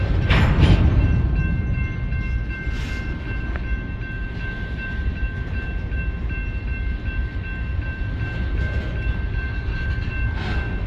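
A CSX freight train with three working locomotives passes near Nashville, a steady heavy rumble of wagons rolling by with a horn sounding briefly at the start and faint tones in the background, heard from trackside without voices.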